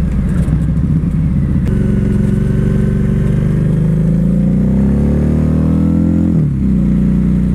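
Harley-Davidson V-Rod motorcycle accelerating hard: loud, close engine roar climbing steadily in pitch, a brief dip near the end as it shifts, then pulling again.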